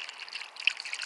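Water is poured or trickled into a container to dilute acid for etching tremolite clusters, a brief, faint, steady liquid pour heard alone.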